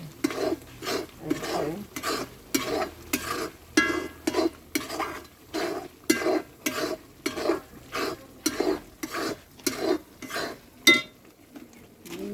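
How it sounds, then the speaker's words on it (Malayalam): Spice powders are stirred in oil in a pan, making a regular rhythm of about a dozen scraping strokes, each a short gritty burst, with quiet sizzling between them. "ഇനി നമ്മളിതിങ്ങനെ നന്നായി ഒന്ന് ഇളക്കി കൊടുക്കട്ടെ."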